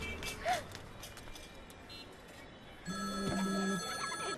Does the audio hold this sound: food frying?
no